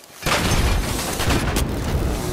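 A loud explosion in the shooter game The Finals, a sudden broadband blast that bursts in after a brief quiet lead-in and rumbles on heavily for a couple of seconds with no talk over it.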